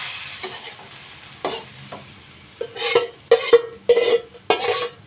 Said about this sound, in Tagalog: Ngayon gigisa ko na lang.